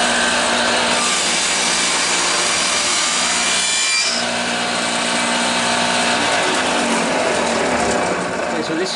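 A power saw makes one continuous cut through the corners of a clamped wooden chess board, a loud, steady buzzing rasp close by that holds for the whole stretch with a slight shift in pitch partway.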